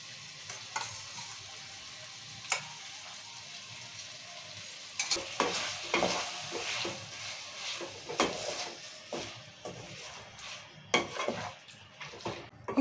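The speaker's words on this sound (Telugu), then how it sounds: "ఇప్పుడు ఇవన్నీ వేసి బాగా కలుపుకోవాలి." Chicken pieces with yogurt, turmeric, salt and chili powder fry in oil while being stirred, a soft steady sizzle under scraping and clinks of a spoon against the pan.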